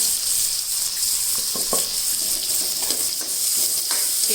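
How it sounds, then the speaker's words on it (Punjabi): Green chillies lightly frying in a kadhai, a continuous bright hiss of oil with a few soft scraping stirs, close and steady, no voices. "ਹਰੀਆਂ ਮਿਰਚਾਂ ਆਪਾਂ ਜ਼ਿਆਦਾ ਸੇਕ ਨਹੀਂ ਲਵਾਉਣਾ ਕੇਰਾ ਹਲਕਾ ਜਿਹਾ ਸੇਕ ਫਰਾਈ ਕਰਾਂਗੇ"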